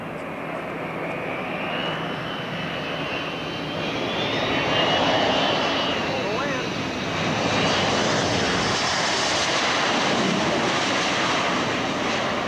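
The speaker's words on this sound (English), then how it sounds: "The aircraft now demonstrates a very short landing distance." A C-130 military transport aircraft makes a very short landing, its engines giving a steady, loud broadband roar that swells and holds for about twelve seconds, with no talk over it.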